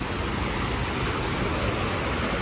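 Noorkhah waterfall at Boniyar in Baramulla, a continuous broadband rush of falling and flowing water, loud and steady from start to finish with no voices.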